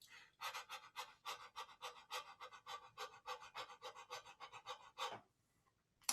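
A voice imitates rapid, high panting: a quick, even run of about fifteen short breaths in and out, then it stops abruptly.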